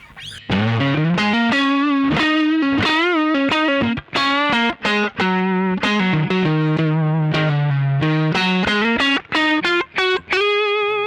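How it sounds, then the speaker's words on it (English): Electric guitar played through a Bogner Ecstasy Blue overdrive pedal with the boost engaged on the plexi setting gives a loud, saturated distorted tone, with sustained notes and short melodic lead runs separated by brief gaps. "so if we put on the boost with that tone on the plexi setting,"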